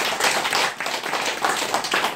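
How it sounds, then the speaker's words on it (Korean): A church congregation claps together in a steady round of applause for a couple of seconds, with no speech over it. "우리 재직총무에게 박수 한번 보내드리겠습니다."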